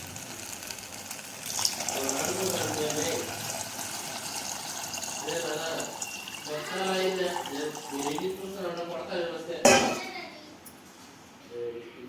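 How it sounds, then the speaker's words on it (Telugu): Water streams into rice in a pressure cooker with a steady, moderate gush that lasts several seconds. A voice talks faintly underneath, and a sharp clatter comes near the end. "2 గ్లాసులకి 6 గ్లాసుల వాటర్ యాడ్ చేసుకుంటున్నాను ఫ్రెండ్స్."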